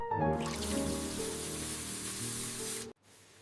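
Tap water runs steadily in a bathroom during face washing, a loud continuous rushing spray that stops abruptly near the end, leaving quiet room tone.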